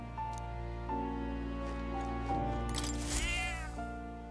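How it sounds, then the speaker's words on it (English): A cat in Metaphor: ReFantazio meows a few times, with one drawn-out, wavering call near the end, all set against a steady backdrop of sustained game music. "That's a good kitty."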